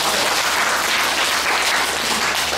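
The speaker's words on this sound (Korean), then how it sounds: "도움이 되셔서 박수 한번" Seminar audience claps together in dense, steady applause, loud and close, filling the whole stretch without talk.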